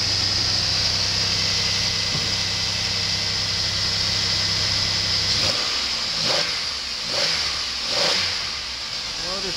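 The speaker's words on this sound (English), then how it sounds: "Motor sounds good." A 2003 Pontiac Grand Am GT with the 3.4 engine and high mileage running steadily, then briefly revved a few times, loud and close with a constant hiss.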